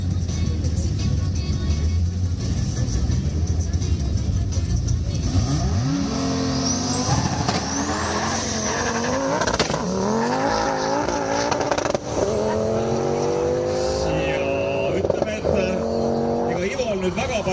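A 700 BHP Audi 200 20v 2.2 turbo accelerates hard, its engine climbing loud through repeated rising revs and gear changes with turbo whine, while people talk over it.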